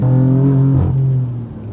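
A 2015 BMW M4 engine rises on a brief throttle blip, a loud, close, tonal rev that holds, dips, then tails off as the revs fall.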